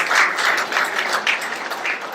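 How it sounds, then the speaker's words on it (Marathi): Applause at a Marathi novel launch ceremony honouring Suryakanta-tai: a roomful of people clapping steadily and fairly loudly, with a dense patter that swells in small waves and runs the whole time without voices. "आपण एक वेळा जोरदार टाळ्या वाजवूया"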